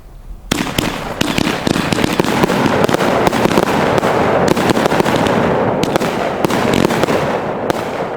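A 200 g, 25-shot Pro Mad Ox firework cake, Rampage in the Sky, fires a loud, rapid barrage of booming and crackling bursts that keeps going almost without a break. It starts after a brief quiet moment and is heard alone, with no talking.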